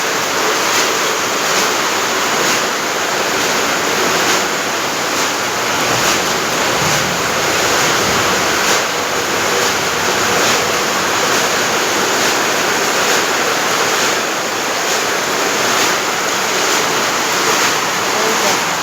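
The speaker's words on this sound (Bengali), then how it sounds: "ওপরে টিন দিয়ে জল পড়ছে।" Water pouring through a tin roof into a house, a loud, unbroken roaring rush that stays even from start to finish.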